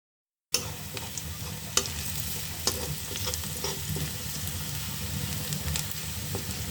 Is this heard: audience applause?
no